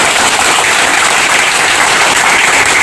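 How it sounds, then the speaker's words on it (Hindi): Audience applause at a live class event, a dense, steady wash of clapping that stays loud and even throughout with no voices on top. "एक बार ताली बजा दो"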